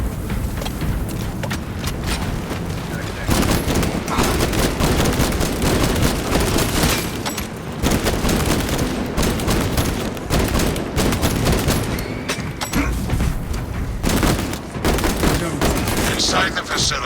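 Dense, loud gunfire comes in bursts in Warhammer 40k Space Marine 2. Rapid volleys and shots overlap with mechanical clatter for most of the stretch, and there are short gaps between the bursts.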